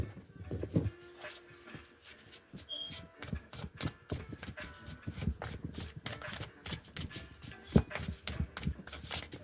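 Tarot cards being shuffled close up, a rapid run of soft riffling and slapping bursts that repeats throughout, with no talking.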